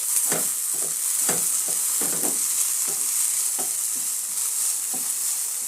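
Okra with chili flakes stirred in a frying pan, a continuous bright sizzle overlaid with repeated spatula scrapes at a steady rhythm, heard up close with no voices.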